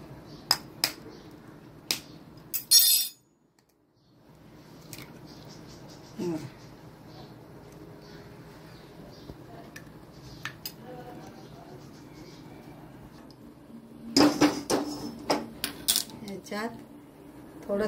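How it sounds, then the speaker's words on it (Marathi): Three country eggs cracked against a bowl: sharp, brittle taps come in quick clusters near the start and again later, over a quiet kitchen background. "हे 3 अंडे आहेत ना, हे आता फोडायचे आणि त्यातलं सगळं गीर काढायचं।"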